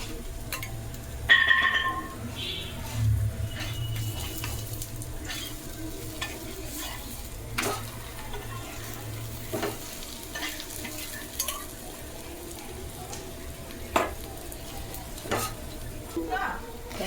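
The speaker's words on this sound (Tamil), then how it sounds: "வெங்காயம் இவ்வளோ உப்பி வருது, இந்த மாதிரி வரணும்." Onions fry in hot oil in a pan for aloo paratha, giving a soft, steady sizzle. Occasional sharp clinks and scrapes of stirring cut through it at close range.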